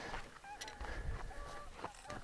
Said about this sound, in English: there's some geese flying over.